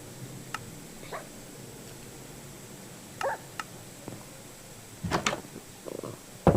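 Dog barks from a tamed wolf in the Minecraft survival game, a few short separated yips and barks spread across the stretch over a low background, with a louder cluster near the end.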